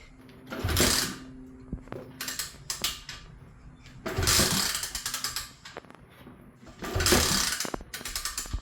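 An SSR 125 dirt bike is kick-started in three bursts of ratcheting, mechanical clatter, each lasting about a second, separated by quieter clicks and creaks, close by with no talking.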